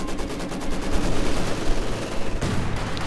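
Dense battlefield gunfire from Company of Heroes 2, with a Maxim machine gun position under artillery bombardment; rapid rattling bursts and blasts blend into a continuous loud barrage with no speech.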